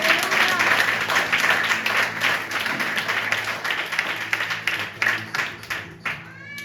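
Church congregation applauding and cheering in praise of the Holy Spirit during a French-language worship service, steady loud clapping that fades toward the end, with voices in the crowd.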